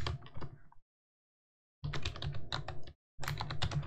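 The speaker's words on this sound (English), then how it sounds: "And I'm having trouble typing today." Rapid clicking of keys on a computer keyboard, in two close, crisp bursts of typing separated by silent pauses, with no talking.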